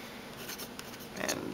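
A Uni-Ball Kuru Toga mechanical pencil draws short marks on paper, giving a soft graphite scratch, faint and close, with a slightly stronger stroke near the end and no speech.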